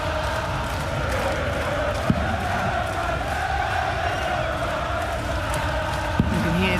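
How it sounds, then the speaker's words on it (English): A crowd in a darts arena cheers and chants continuously behind a steady roar, with a couple of sharp thuds, at a Premier League darts night between Bunting and Price. "You can hear the crowd in the back cheering Gerwyn Price."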